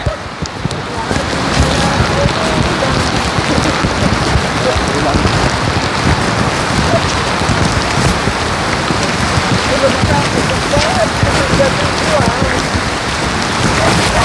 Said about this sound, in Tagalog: Kasi pag sobrang ulan at ganitong ulan mga kabayan, tatagal to, aabot to ng gabi.